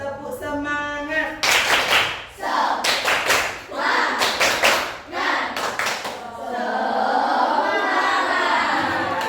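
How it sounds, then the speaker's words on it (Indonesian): Schoolchildren in a classroom perform a loud rhythmic spirit clap, with sharp patterned bursts of claps and some chanting voices, ending in a wash of excited chatter. "keras-keras tepuk semangat."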